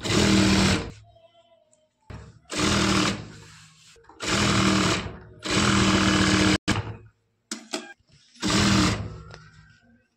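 Close, loud bursts of a sewing machine stitching a lehenga blouse come in several runs of about a second each, with quiet gaps and brief clicks between them and no voices.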